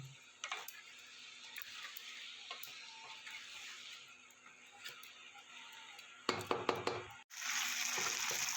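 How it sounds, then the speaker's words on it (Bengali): A spice paste for vegetarian Bengali potato curry sautéing in a pan: a steady, quiet sizzle broken by occasional stirring scrapes, then a cluster of sharper clatters and a loud, sustained hiss near the end. "ভেজে নেবো আমি মশলাটা যাতে না পুড়ে যায় তার জন্য আমি একটু দেবো জল দিয়ে ভালো করে আমি কষিয়ে নেব"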